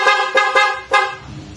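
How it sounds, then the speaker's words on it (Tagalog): A motorcycle horn, on a bike compared against a PCX 160, sounds in several short blasts with brief gaps, loud and close, then stops. "Pati yung busina pala nito maganda eh, nabunot pala yung busina lang niya."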